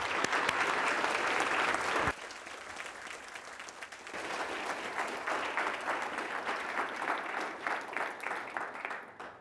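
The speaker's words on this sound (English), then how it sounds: "let's give a round of applause for my mentor and" An audience at a physics symposium keynote bursts into sustained applause, loud and dense at first, then dipping and continuing steadily as a broad crowd wash before tapering at the end.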